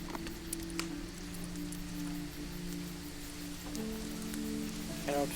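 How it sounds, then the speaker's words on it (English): A steady rain patter loops as a soft sound effect in an online tabletop role-playing game, with a low constant hum underneath and a few light clicks. "I can turn the rain off."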